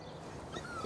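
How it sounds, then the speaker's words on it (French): A neighbour's small pet dog gives a short burst of whimpering and yips, close and fairly loud, with no talk over it. "C'est Patricia Smith. C'est le chien de ma voisine de palier"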